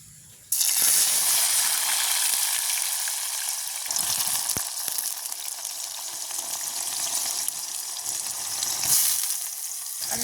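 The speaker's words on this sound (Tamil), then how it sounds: "எங்களுக்கு இப்போ எண்ணெய் நல்லா கொதிச்சு கொண்டு போயிருக்குது கத்திரிக்காய் போடுவோம்" Sliced eggplant drops into hot oil in a village kitchen, bursting into a loud, continuous sizzle that crackles and hisses steadily for several seconds.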